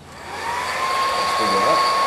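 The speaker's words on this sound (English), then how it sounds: "you can use a hairdryer" A hairdryer blows steadily to dry a cat-scratch repair, a close, loud, continuous whooshing hum with a thin steady whine, no voices.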